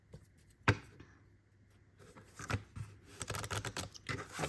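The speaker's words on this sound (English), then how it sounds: "we're going to shuffle and see who we are working with tomorrow." Oracle cards being shuffled by hand, a dry papery riffling and tapping that starts with one sharp snap and then turns into a dense run of quick, close clicks and rustles.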